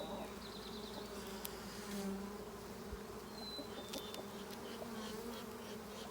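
Honey bees buzz steadily at an opened hive of a swarm colony during an inspection, a dense, even hum close by with occasional individual bees flying past, no talk.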